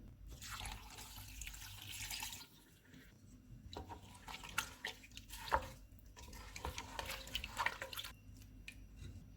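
Water is poured into a pressure cooker over beef, onion, tomato and spices, a faint, splashing trickle that comes in a few short pours and drips, with no talking.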